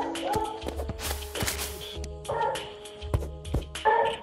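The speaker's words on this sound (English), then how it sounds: "A barking that isn't my dog barking for once." A beagle in the video game Terraria gives a series of short, sharp yips and barks in uneven bursts, close and clear, with light tapping sounds between them.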